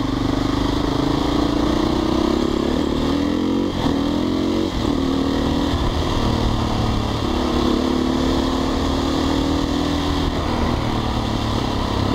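A Husqvarna motorcycle rides through traffic with a steady, close engine drone whose pitch rises and falls gently as it moves along, with continuous road noise around it.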